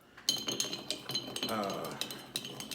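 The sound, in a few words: stirring a cocktail with an ice cube in a glass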